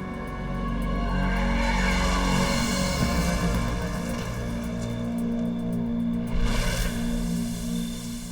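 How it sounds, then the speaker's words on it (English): A car losing control on a mountain road, its engine droning loud and steady throughout, with tyre scrubbing and a brief surge near the end, no voices. "While in the mountains, Elizabeth loses control of the car."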